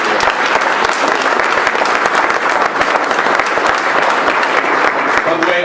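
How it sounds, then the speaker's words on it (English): A crowd applauding a speaker at a Friedman Legacy Day event in Indianapolis, with loud, dense, continuous clapping that holds steady throughout. "Another round of applause, ladies and gentlemen, for Bob Compton."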